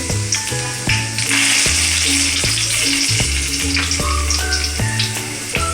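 Chilies and curry leaves with bay leaf, cloves and cinnamon sizzle loudly in hot oil for a tempering, a dense, close, continuous crackle, with occasional clinks and scrapes of a utensil against the pan.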